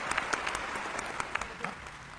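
An audience at a Hindi spoken discourse in Bholad claps together in a brief, moderately loud burst of applause, with a few sharper individual claps standing out.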